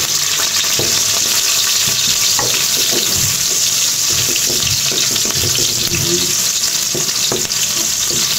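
Onion frying in a pan for pinakbet, a loud continuous hiss and sizzle with intermittent stirring clatter, close and unbroken throughout.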